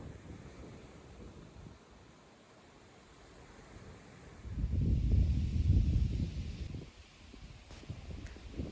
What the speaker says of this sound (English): I always want to watch the next wave crash on the beach.